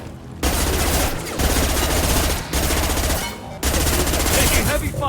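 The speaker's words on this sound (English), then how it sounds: "Taking heavy fire." Gunfire in the video game Mass Effect 2 during a Collectors assault, loud sustained bursts of automatic fire broken by brief pauses, with combat voices mixed in.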